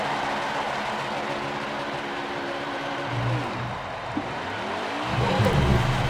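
A race car engine rumbles and revs in a sustained low drone during a burnout at a race event, swelling louder toward the end, with no voices over it.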